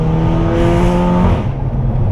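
Volkswagen Scirocco R with a 345-horsepower engine revving hard and close, a loud sustained roar that eases off slightly toward the end.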